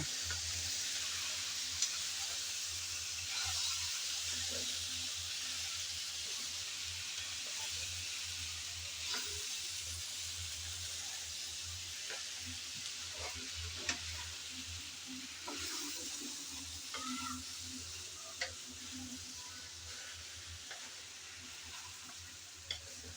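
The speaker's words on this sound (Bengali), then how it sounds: "এখন সব মশলা দন্দুলের সাথে ভালো করে নেড়ে চেড়ে কষিয়ে নিতে হবে" Sponge gourd cooking in a pan with chili, cumin, coriander powder and salt, giving a steady, soft sizzling hiss with scattered small scrapes and taps from stirring throughout.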